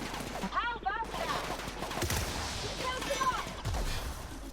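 Gunfire bursts in the video game The Outer Worlds, rapid volleys of shots with sci-fi effects and other game sounds, with a voice talking over the action.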